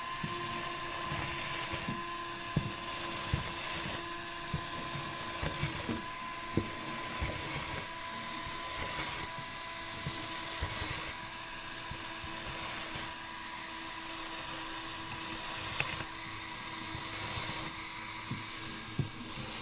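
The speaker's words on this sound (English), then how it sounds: "We drill 1/4-inch holes so that the wood beneath can dry out." A power drill bores quarter-inch holes through boat fiberglass into the wood core beneath. It gives a continuous close, high whine that surges and eases, with small clicks between bursts and no talking.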